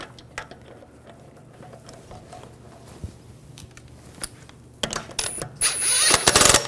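A lug bolt is started and tightened by hand on the rear wheel of a 2006-2010 BMW 550i, heard as small metallic clicks and ratcheting taps, then a louder close burst of rattling and whirring near the end.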